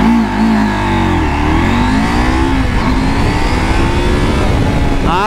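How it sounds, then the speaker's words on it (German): Husqvarna Norden 901 adventure motorcycle launching hard from a standstill, its engine revving up loudly through rising, gear-stepped pitch sweeps, close and continuous for the whole stretch with no talk. "Start zur Beschleunigung von 0 auf 100 mit der Husqvarna Norden 901."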